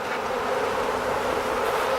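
Honeybees swarm around an opened hive in a dense, continuous buzz that stays loud and close throughout, with no talking.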